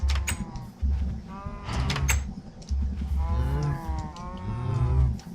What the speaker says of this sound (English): Time to breed some more cows.